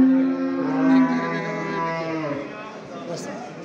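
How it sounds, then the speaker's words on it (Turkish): A young bull at a livestock market in Sungurlu, Çorum gives a drawn-out low moo, close and loud, with crowd noise around it. "Maşallah güzel bir tosun."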